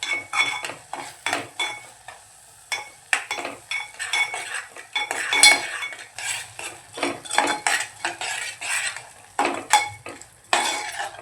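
A spoon stirs garam masala and cumin powder into a spicy Malvani-style crab curry in a pot, making repeated rhythmic scraping clinks against the metal with no talking.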